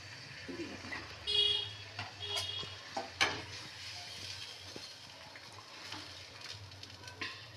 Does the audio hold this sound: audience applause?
no